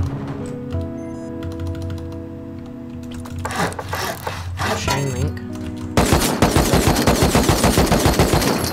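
Gunfire in the survival video game Rust: a busy stretch of overlapping game sounds gives way to a loud, rapid run of repeated shots near the end, with no talk over it.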